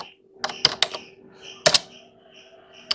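Someone types a command on a computer keyboard, producing a few sharp, close key taps in small clusters separated by short pauses, with no talk.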